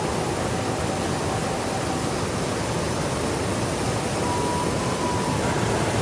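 A swift river current at a school children's river crossing in Limau Gadang, Lumpo, pours past as a steady, loud broadband rush that holds even and unbroken throughout, with no voices.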